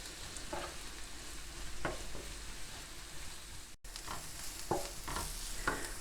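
Cabbage frying in a pan, a continuous close sizzle with occasional scraping stirs and light clinks, no voices.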